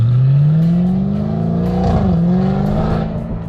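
An Audi RS5 V8 fitted with an EVOX exhaust revs loudly and close by, engine pitch rising steadily, dipping, then climbing again with a deep throaty roar.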